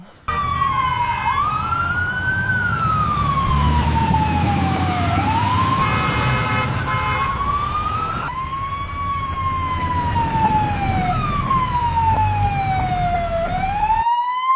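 An ambulance siren wails in long rising and falling sweeps, loud and close, continuing steadily over a road-traffic rumble, with no talking.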